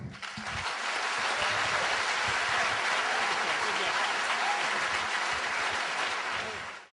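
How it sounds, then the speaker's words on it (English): A debate audience bursts into sustained applause as the event concludes, a dense steady wash of clapping that swells quickly, holds loud and even for several seconds, then drops off at the end. "Well, this concludes our debate. Let's give him a round of applause."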